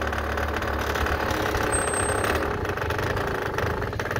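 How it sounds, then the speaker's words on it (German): A Peugeot JetForce scooter engine idles steadily up close as it warms up, a continuous rumbling drone with slight rattle, its drive belt broken; no voices are heard. "Ich lasse ihn mal ein bisschen warm laufen."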